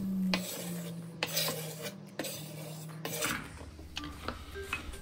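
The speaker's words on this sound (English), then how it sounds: "Give your salsa a good stir, incorporating all the ingredients fully" A cucumber and apple salsa is stirred in a bowl with a utensil, giving scraping, rubbing strokes and light clinks against the bowl, close up with an irregular rhythm.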